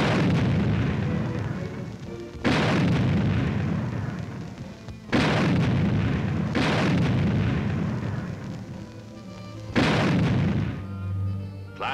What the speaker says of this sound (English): a demonstration of what a 90-millimeter tank gun sounds like in action